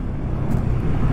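Mahindra Bolero SUV passing on a rough mountain road in Ladakh near Lachungla, a brief rumbling engine and road noise with wind buffeting, close and fairly loud.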